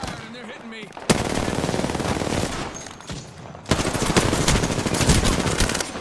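Rapid automatic gunfire fills a shooter video game match, with sustained loud bursts broken by a short pause and then resuming, while a player talks over it.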